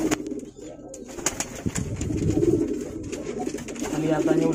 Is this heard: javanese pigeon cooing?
yes